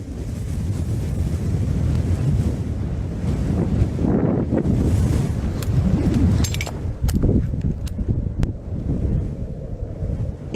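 Strong wind roaring across the sparse Jampir desert in Pakistan, a dense, continuous rushing that buffets the microphone in gusts, loud and close, with no voices.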